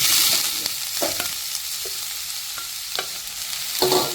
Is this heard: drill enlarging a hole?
no